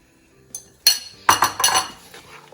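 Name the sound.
mixing egg mix into chickpea mix in a bowl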